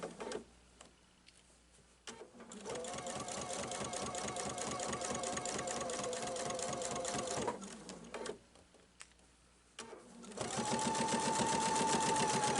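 A sewing machine stitching a prairie point pumpkin pillow, running in two long, fast, rhythmic bursts of mechanical whirring and needle clatter, separated by pauses with small handling sounds, close and fairly loud.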